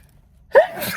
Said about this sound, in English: All of a sudden I sneeze.